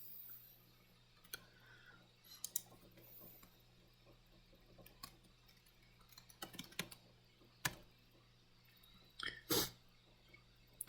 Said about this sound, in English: then you'll type in a new password